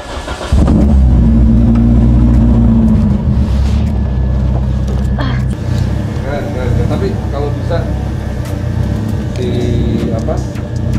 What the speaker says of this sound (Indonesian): Mau dengar suara mesinnya?